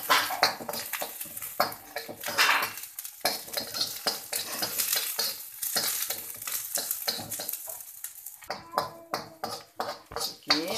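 Shallots fry in oil with a bright, close sizzle while a utensil scrapes and stirs in uneven bursts, with a few brief quieter pauses between strokes.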